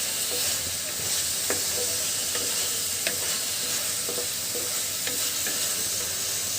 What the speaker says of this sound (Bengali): ঢাকনাটা একটু খুলে নাড়া দেই